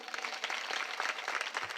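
An audience at a kirtan claps together, a dense, even burst of applause that is fairly quiet and sounds a little distant, lasting under two seconds.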